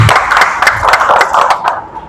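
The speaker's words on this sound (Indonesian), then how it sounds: "tepuk tangan buat Pak Kades" A crowd at a village government meeting in Indonesia applauds the village head, giving steady, fairly loud clapping with a slightly uneven rhythm that continues for about two seconds.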